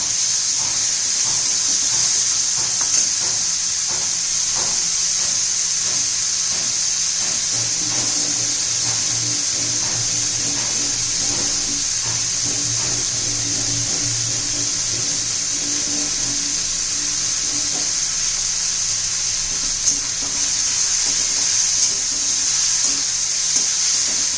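Hot chillies roasting in a pan for a mung chutney, giving a continuous loud hiss and sizzle with soft, irregular stirring scrapes underneath, unbroken for the whole stretch without any voices.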